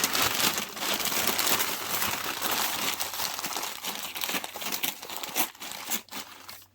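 Paper crumpling and rustling over a home worm bin, loud and close, continuous crinkling for several seconds that grows choppier near the end.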